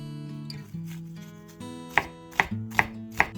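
Knife chopping half an onion on a cutting board for Korean-style mentaiko cream pasta: a few slow cuts, then four sharp, evenly spaced thuds on the board over soft background music, with no talking.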